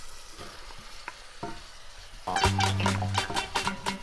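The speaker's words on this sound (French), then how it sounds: "on va faire revenir les oignons rouges avec les pommes dans l'huile d'olive" Red onions and apples in olive oil, first a few soft taps, then a sudden close sizzle as they hit the pan, followed by stirring scrapes over the frying.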